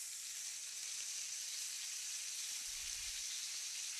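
Steak sizzles in a hot pan, a steady close hiss of frying that runs evenly throughout, with a faint low thump near the end.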